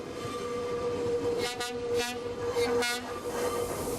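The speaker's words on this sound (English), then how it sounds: "The train departs from the heart of the city." A train departing passes steadily with a continuous rumble, and two short horn blasts sound midway, loud and fairly close, on a line in Ecuador.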